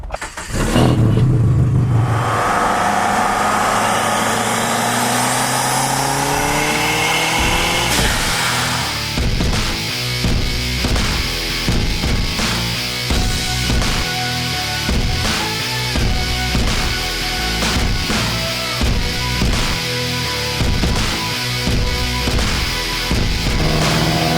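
A car engine roars and revs up close, then settles into a steady drive with rhythmic bumps and rattles throughout; no voices.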